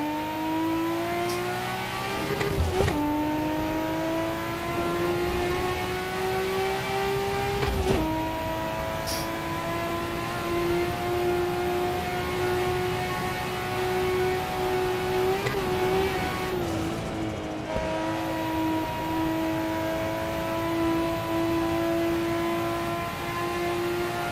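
A road car's engine in the racing game Assetto Corsa on the Nordschleife, a steady sustained drone that rises slowly in pitch with a few sharp gear-change breaks and brief dips, heard alone with no talk.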